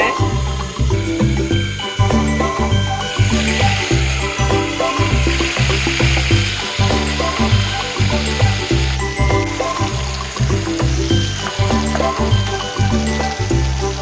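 Dried fish (karuvadu) fries slowly in hot oil, giving a dense crackling sizzle that is loud and continuous. A repeating pulse of background music runs under it the whole way.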